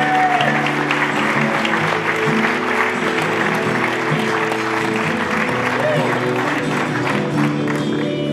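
Audience applause fills the room at a local radio awards ceremony, a steady continuous clapping from a crowd indoors, loud and sustained throughout with a murmur of voices underneath.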